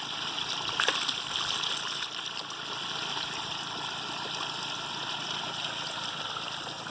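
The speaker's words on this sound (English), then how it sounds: "That pump over there that I've got running the waterfall" Steady splashing and trickling from a pump-driven waterfall in a backyard DIY pond, a continuous broadband rush of falling water heard fairly close and alone.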